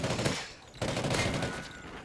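Silenced K7 submachine gun fire in Call of Duty Ghosts: rapid, muffled bursts of suppressed shots with one short gap between them, fairly quiet and rattling.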